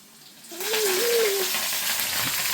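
Garlic, ginger, red chilli and curry leaves hit hot oil and break into a loud, steady sizzle that starts abruptly and holds, with a brief tonal squeak near the start.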